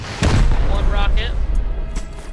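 A loud, close rocket explosion during a raid in the game Rust, a single heavy boom that swells quickly and rumbles for a couple of seconds before fading slightly.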